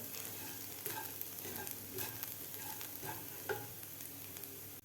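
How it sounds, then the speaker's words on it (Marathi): Kasuri methi being roasted in a ground masala in a pan over medium heat, giving a steady soft sizzle with repeated scraping and stirring strokes throughout, fairly faint and close. "कसुरी मेथीसुद्धा आपल्याला एक मिनिटभर आपल्याला खालच्या मसाल्यामध्ये भाजून घ्यायची आहे"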